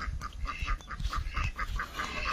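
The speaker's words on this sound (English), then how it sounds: "The geese and ducks are a little bit alarmed by my strange presence in their campus." Geese and ducks kept as farm livestock at a rural house in Nagaland call in alarm, a close, busy run of repeated honks and quacks overlapping one another.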